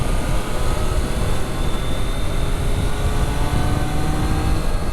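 The engine of a Triumph Daytona 660 motorcycle, a triple with a 120-degree crank, drones as a steady, loud, continuous roar, likely heard from the rider's position with wind noise. No voices are heard.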